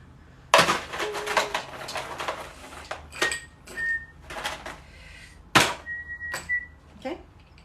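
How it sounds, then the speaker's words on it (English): Ice cubes dropping into a Brazilian caipirinha glass with cachaça, several sharp clinks and clatters at irregular intervals, loud and close, with a person talking in between. "Now we're just going to put ice right on top of this."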